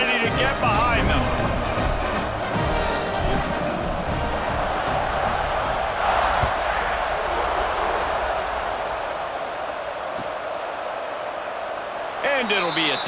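Stadium crowd in EA Sports College Football 26 roars steadily as a kickoff approaches, a dense sustained wash of cheering that dips slightly near the end before swelling again, with game commentary over it.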